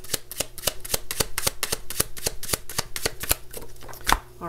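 Tarot card decks being shuffled, a fast, even run of crisp riffling snaps repeating over several seconds, close and fairly quiet, with no voices.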